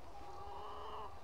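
A silkie hen clucks softly and continuously in a short, quiet stretch, close by with no talk over it.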